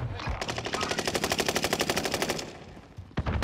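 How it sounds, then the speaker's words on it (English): Automatic weapon fire in a first-person shooter video game, a rapid, loud, evenly spaced burst of about twenty shots lasting roughly two seconds, followed by a single sharp crack near the end. "Someone else is shooting him, though."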